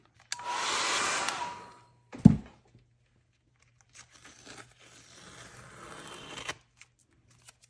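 A hair dryer blows on layers of mixed media artwork, starting with a steady, loud whoosh of about a second and a half. It cuts off, then returns softer for several seconds, with no talking.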